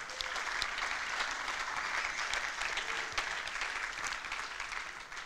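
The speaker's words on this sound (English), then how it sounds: "I think it's time we give ourselves a round of applause" A conference crowd at the React Native EU 2023 keynote gives itself a round of applause: sustained, evenly textured clapping from many people, moderately quiet and steady for several seconds, unbroken by speech.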